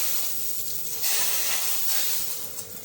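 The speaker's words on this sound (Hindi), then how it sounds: "अब इसके अंदर मैं ऑयल को डाल देती हूँ।" Hot oil sizzles steadily in a pan while tempering masoor dal, a continuous bright hiss that swells a little midway and stays close and fairly loud with no talking.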